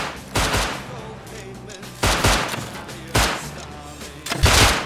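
Gunfire in the survival game Rust: four loud, close bursts of shots spaced about a second apart, each ringing out briefly over quieter game ambience, with no talking.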